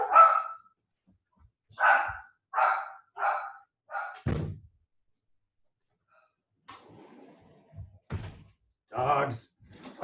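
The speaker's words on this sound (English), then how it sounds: "Dogs." Dogs bark several times in close bursts, a quick run of loud barks, then a pause and a few more scattered barks with thumps mixed in, heard indoors.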